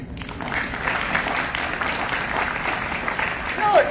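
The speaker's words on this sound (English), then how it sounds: "respectful claps afterward" Polite audience applause at a public meeting after a speaker finishes, a steady moderate patter of clapping heard at some distance with faint room noise.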